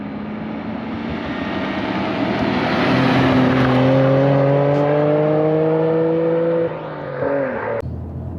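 A 1997 Nissan R33 GTR V-Spec on 265 mm tires drives along back roads, its engine droning loud and close as pitch climbs steadily through a gear, then drops sharply on a shift before pulling again.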